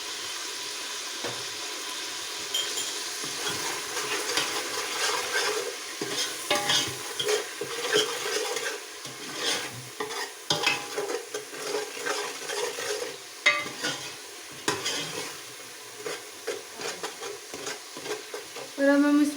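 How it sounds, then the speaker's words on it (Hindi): Ground spice masala of red chilli, turmeric, salt and coriander frying in oil in a pan, with scraping stir strokes and a soft steady sizzle, close and fairly quiet. "और अब हम इस मसाले को अच्छी तरह भून लेंगे।"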